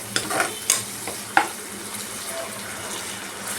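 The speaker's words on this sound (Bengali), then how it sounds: "আমি একটু ধনে গুঁড়ো দিয়ে দিলাম। এবার আরেকবার একটু ভালো করে কষাবো।" Katla fish masala being stir-fried in a pan with coriander powder added, soft scraping stirs and light sizzling with a few sharper clinks of a spoon against the pan, close by.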